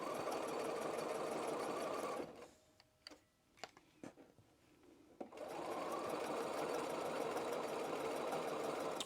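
A sewing machine stitches darts in fine lawn fabric, running steadily, then pausing briefly with a few soft clicks and handling noises before resuming its continuous whir.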